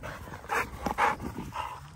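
Several big dogs bark in short, loud bursts close by, about three or four sharp yaps spaced roughly half a second apart over a low background murmur.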